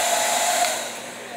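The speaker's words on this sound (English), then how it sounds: "you can always use the blow dryer on a clean setting" A blow dryer runs to dry the glue on a lace front wig, giving a steady, close whirring rush that softens slightly toward the end, with no talk.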